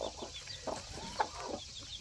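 Mother hens with their baby chicks cluck softly and repeatedly, with faint high peeping from the chicks mixed in, all at low volume and fairly close, with no talk.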